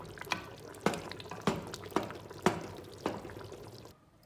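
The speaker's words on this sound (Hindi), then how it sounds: "और ये इसमें थोड़ा सा हमने इसके पानी छोड़ना है, थोड़ा पतला बनाना है" Water poured into a turnip and meat curry (shalgam gosht) as it cooks, giving a run of about six sharp splashes and drips roughly half a second apart, close by and moderately loud, then ending abruptly.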